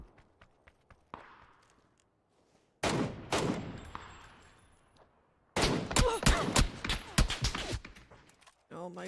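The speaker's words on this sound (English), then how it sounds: "Where the fuck are they shooting?" Bursts of gunfire in PUBG, a long rattling volley followed by a second dense stretch of rapid shots, loud and close, with a few sharp isolated cracks and footstep-like taps in the quieter gaps.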